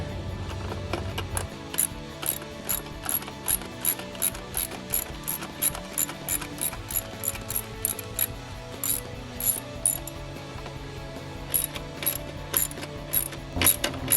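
A ratchet loosens 10mm bolts on a 2012–2016 Jeep Wrangler JK engine, clicking in rapid, repeated bursts of close, crisp pawl ticks with short pauses between strokes.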